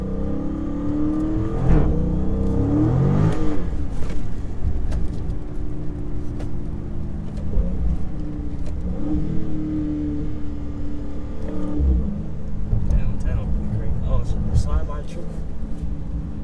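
A Dodge SRT drifts and spins out on a wet road, its engine roaring and rising in revs with tire hiss, heard from inside the car while people talk over it.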